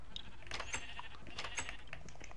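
Pink sheep bleating in Minecraft on PS4, several short bleats at steady loudness over a constant game background, with no talk over them.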